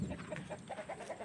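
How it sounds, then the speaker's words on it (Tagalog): Chickens cluck at a morning market in Benguet Province, Philippines, with short, repeated clucks in an uneven rhythm against a busy background hum. The birds sound fairly close. "Ay, daming manok."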